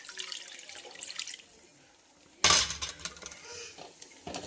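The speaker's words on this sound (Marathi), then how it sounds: "मी यामध्ये घालणार आहे अगदी कपभर पाणी घालणार आहे मी" A cup of water is tipped into thick ragda curry in a pot, making a sudden splashing pour that fades into faint kitchen clatter, with no talk.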